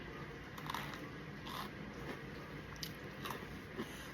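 A cinnamon Oreo cookie, half cinnamon and half vanilla cream, is bitten and chewed close up, with several crisp crunches and soft squishy chewing over a quiet background.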